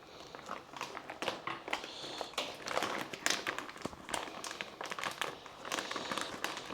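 A plastic pasta packet crinkles and rustles in a kitchen as it is handled and cut with scissors, a fairly close, irregular stream of crackly bursts.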